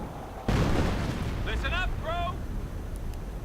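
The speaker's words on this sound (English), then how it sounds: "the Hummel is firing its heavy howitzer, in fact, onto the positions of the British" A Hummel self-propelled howitzer fires a heavy shell in a WWII strategy game, one sudden loud boom followed by a long rumbling tail, with short tonal game sounds over it.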